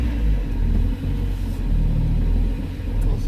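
A Mazda MX-5 with a new exhaust pulling away, a loud, low engine rumble that swells and eases with the throttle, close by and without talk.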